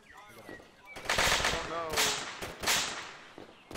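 Incoming gunfire in Arma 3: sharp whip-like cracks of bullets snapping past, a few loud bursts in quick succession, mixed with tense voices talking over it.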